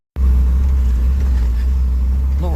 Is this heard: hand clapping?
no